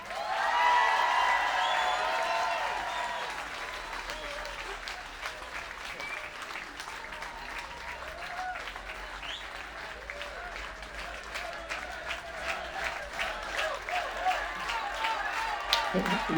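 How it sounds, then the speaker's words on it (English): A large outdoor crowd at a March for Life rally in Parliament Square bursts into sustained applause, dense clapping with a few cheers that swell at first and then carry on steadily for many seconds. "Big round of applause for Dr."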